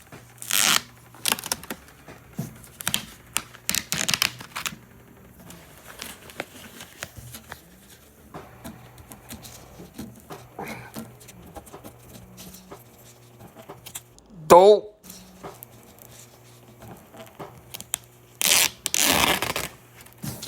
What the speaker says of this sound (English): here it is, the CD player wrapped in foam paper